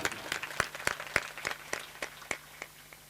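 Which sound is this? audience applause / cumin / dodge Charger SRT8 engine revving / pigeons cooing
audience applause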